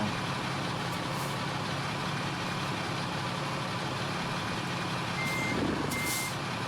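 A truck backs up while parking a trailer at a race track, its reversing beeper repeating steadily over a constant low engine rumble, with a brief air brake hiss near the end.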